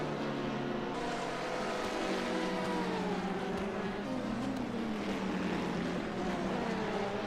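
Sports prototype and GT3 race cars braking and downshifting into turn 1 at Road Atlanta in a racing sim during a 6-hour endurance event: a loud, continuous engine roar whose pitch sweeps downward, with several overlapping engine tones.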